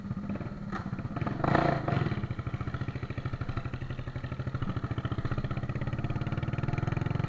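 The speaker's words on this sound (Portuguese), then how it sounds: "Se liga no ronco dessa moto." A 1999 Honda Shadow 600 motorcycle gets a quick blip of the throttle, swelling briefly, then settles back into a steady, close, rapidly pulsing idle rumble that runs on alone.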